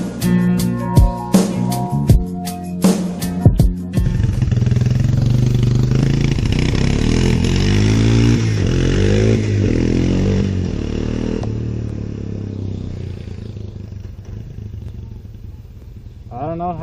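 A four-wheeler ATV engine runs steadily after a few sharp clattering starts, holding a loud, continuous drone with shifting pitch for most of the stretch before fading near the end.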